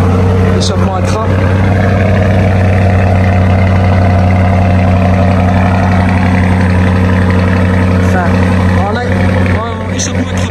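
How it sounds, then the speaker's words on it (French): A Lamborghini Urus fitted with an Akrapovic exhaust runs loud and close with a deep, steady engine drone. Its level stays high the whole time and brief higher blips sit over the rumble. "Échappement à Krapovic, en fait, le bruit est vraiment différent que le bruit d'origine"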